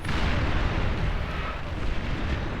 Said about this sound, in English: continuing to send the tactical missile spam